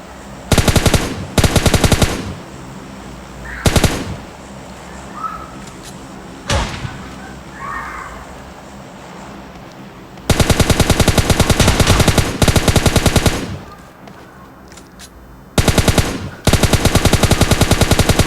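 Bursts of automatic rifle fire from the mobile shooter game PUBG Mobile Lite rattle out in loud, rapid strings, several short volleys early on, then longer sustained bursts, with quieter game sounds in between.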